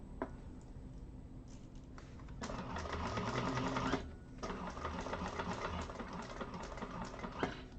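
A sewing machine stitching a vintage handbag, its needle running in a rapid, steady mechanical chatter that grows louder and denser midway, pauses briefly, then resumes, close and clear with faint background noise.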